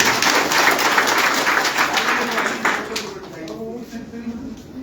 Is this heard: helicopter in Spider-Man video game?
no